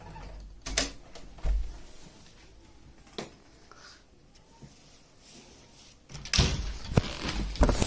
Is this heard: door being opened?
yes